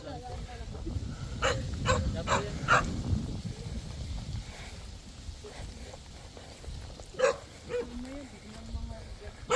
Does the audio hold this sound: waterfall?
no